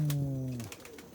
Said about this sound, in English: so glad to see the bird coming back.